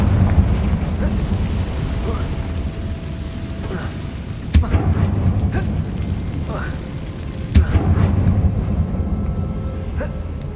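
A Confringo spell explosion in Hogwarts Legacy, two sharp bursts standing out over a steady background rumble with game ambience around them, no voices over the blasts.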